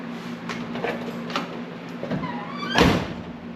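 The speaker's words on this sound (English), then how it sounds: "best the door has ever shut since I've owned it" The door of a 1974 Chevy square body truck, after rocker panel replacement and alignment, shuts with a single solid thunk near the end, preceded by faint clicks and shop sounds, moderately close, with no talk.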